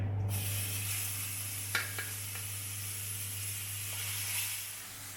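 Oxtail browns in hot oil in a pot on medium heat, giving a steady close sizzle with a low hum beneath and a few faint clinks and scrapes.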